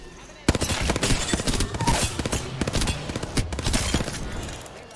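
Rapid bursts of automatic gunfire from Apex Legends, loud and close, with overlapping volleys crackling almost continuously.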